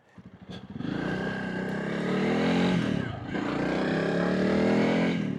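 A 2025 Honda CRF300 Rally motorcycle starts with a few chugging pulses, then revs up in two rising, sustained pulls of the single-cylinder engine, close and loud, with a brief dip between them.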